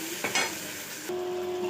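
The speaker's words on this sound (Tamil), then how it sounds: "ஸோ இப்போ நம்ம தக்காளி போட போகிறோம். போட்டு கிண்டுறோம். இது நல்லா வதங்கட்டும்." Onions and tomatoes sautéed and stirred in a pan for a fish curry, giving a loud, continuous sizzle broken by a couple of quick spatula scrapes, close and without speech.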